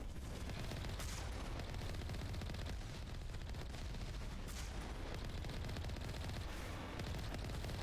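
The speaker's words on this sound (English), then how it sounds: "So I'm just gonna shoot at them." Continuous heavy gunfire in the sci-fi shooter Mass Effect Legendary Edition during a firefight with Geth, a dense, loud barrage of rapid shots and booms with no pauses and no talk.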